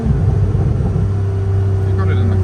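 Toyota 2GR supercharged car exhaust in its quiet setting, a loud steady low rumble with a constant droning tone, close and continuous with no clear revving.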